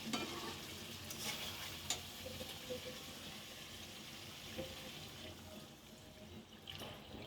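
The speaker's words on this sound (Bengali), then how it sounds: "আমি এখন ঝোলের পানি দিয়ে দিব।" Water pours into frying curry masala in a pan, a steady close wash of hiss and sizzle with faint stirring scrapes running throughout.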